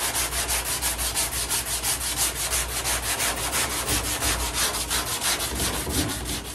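A coarse wood-cutting sawzall blade, worked by hand, rasps through a car body panel in fast regular back-and-forth strokes, loud and close with a steady scraping rhythm and no talking.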